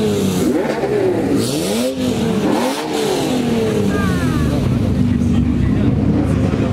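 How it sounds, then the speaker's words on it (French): An Audi R8 sports car at a car meet revs its engine in rising and falling sweeps, loud and close, while people talk nearby. "Puis là, on a une autre R8 qui fait du bruit."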